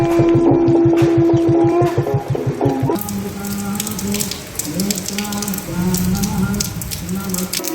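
Torrential downpour in Andhra Pradesh, a loud, steady wash of rain drumming on surfaces with splashing water, with a tonal hum underneath, especially at the start.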